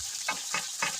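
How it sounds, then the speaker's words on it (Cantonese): About 500 g of chicken wings fry in two tablespoons of hot oil in a wok over high heat, a soft steady sizzle with a few brief bursts, fairly quiet and without talk. "大火熱鑊以下2湯匙油，油熱500g 雞翼，面面煎至金黃"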